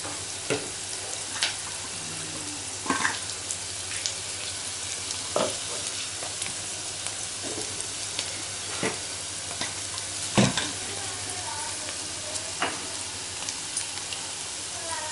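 Onions fry in oil in a pan, a continuous hissing sizzle broken by several sharp clicks and scrapes from stirring, heard up close and steady throughout.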